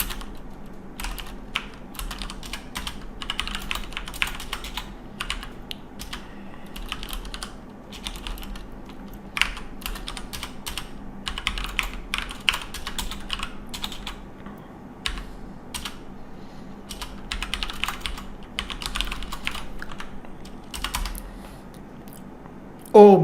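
Code is typed on a computer keyboard in a long run of close, crisp key clicks with uneven rhythm, small pauses and quick bursts, heard alone with no talk.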